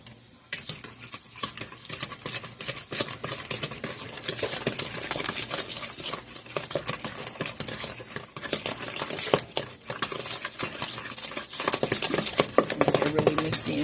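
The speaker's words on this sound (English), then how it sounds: "So let's mix this in." Chocolate chip cookie dough with egg and vanilla being mixed by hand in a bowl, a continuous scraping, stirring texture with irregular clicks of utensil against the bowl throughout, close and steady.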